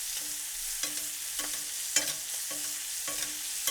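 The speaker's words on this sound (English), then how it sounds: "Move that butter around slightly. We're going to baste our steak." Ribeye steak sizzles in a pan as butter is basted over it, a steady hiss broken by regular spoon scrapes and splashes roughly every half second, close and moderately loud.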